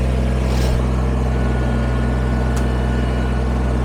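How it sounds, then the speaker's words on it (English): Kubota BX23S compact tractor engine running steadily while clearing logs on a property, a loud constant low idle-like hum with a faint brief click partway through. "Tractor time."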